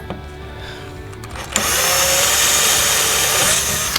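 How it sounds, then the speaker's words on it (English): A power drill on a C8 Corvette spins up at 1.5 seconds and runs steadily through thin material, loud and close after a quiet start, with no voices. "we're just simply gonna drill that through"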